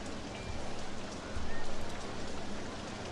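Steady rain falls in the OpenRCT2 theme park game, a dense even hiss with soft patter that swells slightly midway, continuous and moderately loud with no voices.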